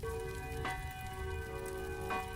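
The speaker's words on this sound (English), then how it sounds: "the bell seems to get louder" A bell rings steadily with sustained, overlapping tones throughout, joined by a couple of brief soft noise bursts and a low murky rumble underneath.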